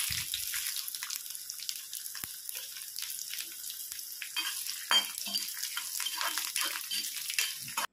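Tempering spices hit hot oil for a ridge gourd thokku pachadi, giving a continuous bright sizzle with small crackles and pops throughout, close and unaccompanied by talk.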